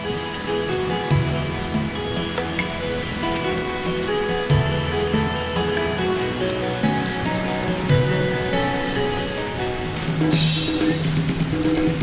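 Ocean surf at Negril beach in Jamaica washes in a steady, continuous roar, carried beneath a layer of background music throughout.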